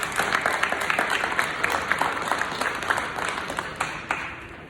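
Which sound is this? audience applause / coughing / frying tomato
audience applause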